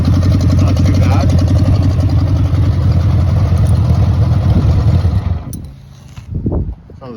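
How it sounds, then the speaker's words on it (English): A 1979 Honda Goldwing GL1000 motorcycle idles loud and close, its exhaust giving a steady low throbbing rumble for about five seconds before it cuts off, leaving quieter brief noises. "How's that for a good sounding motorcycle? I don't even mind the exhaust. It's a little loud"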